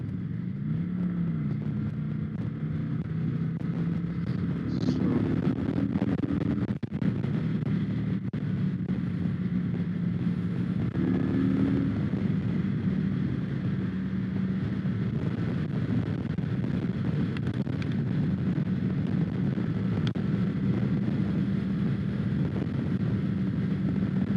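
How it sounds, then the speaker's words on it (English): Kawasaki Vulcan 900 Classic motorcycle engine hum while riding, steady and moderately loud, with wind buffeting the microphone and pitch shifting slightly as the bike changes speed. "Excuse me if it's a bit loud, but we're on a motorcycle."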